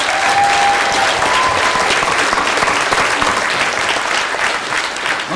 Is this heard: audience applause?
yes